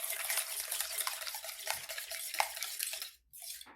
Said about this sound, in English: Give it a nice whisk